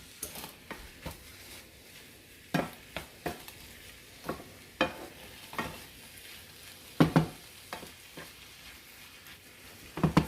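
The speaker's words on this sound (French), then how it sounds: "je vais cuire le tout sur un feu moyen, comme je l'ai déjà mentionné, jusqu'à ce que tous les légumes et la viande soient bien cuits" A stuffing of vegetables and meat cooks in a pan over medium heat, a soft sizzle running beneath repeated clattering stirs and scrapes of a utensil against the pan.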